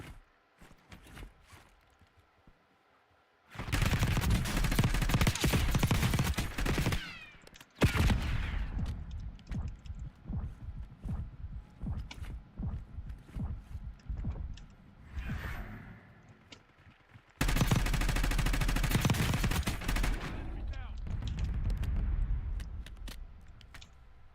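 Gunfire in the Warzone battle royale game comes in loud bursts of rapid automatic shots, broken by short gaps and scattered single shots, with heavy sustained volleys near the start and again toward the end.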